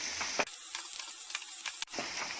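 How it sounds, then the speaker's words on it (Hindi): Chopped onions sizzle and fry in a pan for Hyderabadi Qubooli, a chana dal pulao: a steady close crackle with brief scraping stir strokes, heard alone. "अब इसमें कटा प्याज डालेंगे, इसको भी अच्छे से स्टर करेंगे और हल्का गुलाबी होने तक इसको भूनेंगे।"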